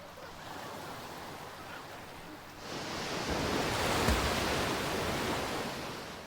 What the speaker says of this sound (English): the sounds of splashing waves are unbelievably loud